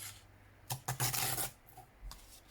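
Paper torn against a tear ruler: a few short, dry ripping bursts, with the longest lasting under a second, close up in a quiet room with no talking.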